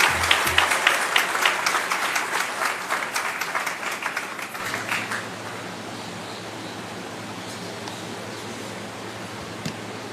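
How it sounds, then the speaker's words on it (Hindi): Applause at a government event in honour of the Chief Minister, with loud scattered claps in the first half that thin out after about five seconds into a low, steady background hiss. "जोरदार तालियों से अभिनंदन माननीय मुख्यमंत्री जी का"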